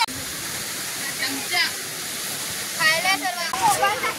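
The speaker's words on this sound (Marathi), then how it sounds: "आता आपण वरच्या धबधब्यावर आलेलो आहोत आणि आता ह्या धबधब्यावरती जायचं आपल्याला" An upper waterfall roars in a steady broadband rush, with voices of people nearby heard faintly over it toward the end.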